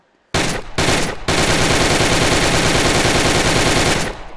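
Rapid automatic gunfire in the VR shooting game Gun Club VR, two short loud bursts followed by a long sustained stream of shots, close and dense, with no talk over it.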